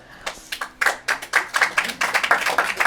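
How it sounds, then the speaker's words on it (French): A small audience at a book launch for a Gaza diary claps in scattered, uneven bursts that thicken into steady close applause over a few seconds. "Oui, oui, applaudissez-les parce qu'ils le méritent."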